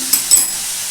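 Bottle gourd stirred and sautéed in a hot pan gives a steady, close sizzle and hiss, with a couple of quick scraping strokes from the spoon early on; the burst is brief and has no talking.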